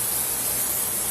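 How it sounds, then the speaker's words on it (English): Cooking spray hisses steadily from a can onto a roasting pan in one continuous, close, loud burst of about a second. "Plenty of cooking spray."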